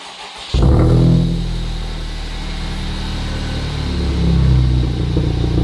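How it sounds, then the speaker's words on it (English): A Honda Civic Type R FK2 engine cold-starts, cranking and catching with a sharp jump in loudness, then settles into a steady, deep idle with a slight rise in revs near the end. "the cold start of this thing sounds nice."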